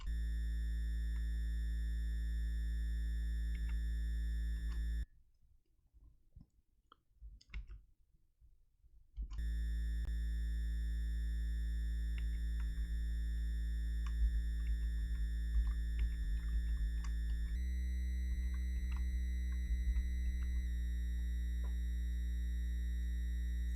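NES APU triangle wave channel playing a constant, steady pure tone that holds for most of the stretch, briefly cutting out to near silence and shifting pitch slightly later on.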